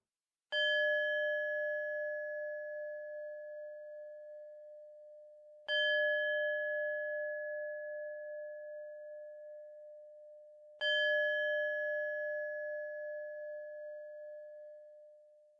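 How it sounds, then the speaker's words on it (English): Singing bowl struck three times at even intervals in a quiet meditation setting, each strike a clear sustained metallic tone with bright overtones that rings out and slowly fades before the next, alone without talk. "I'll ring my singing bowl"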